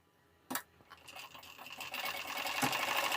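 A domestic sewing machine runs slow stitches along a blouse sleeve hem folded a quarter inch. A sharp clunk comes first, then a faint, quiet whirring builds into a steady rattling run.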